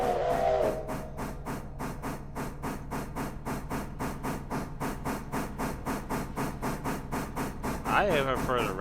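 A steam locomotive in the video game Railroader chuffs in a steady, even rhythm of exhaust beats with hissing steam, a whistle sounding at the start and near the end, while someone talks over it.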